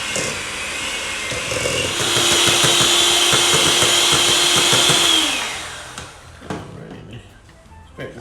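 Electric mixer creaming cream cheese for a Super Bowl appetizer dip, a steady whirring motor that runs for several seconds before spinning down, with faint kitchen clatter afterward.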